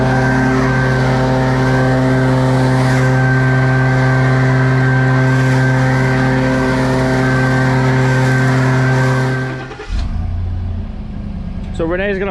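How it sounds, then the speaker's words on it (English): A gas-powered leaf blower blows yard debris toward a truck on a lawn care job, its loud, steady, whining engine drone running close and constant before cutting off near the end, followed by brief rustling. "I'm gonna take the blower now and blow all this to the truck"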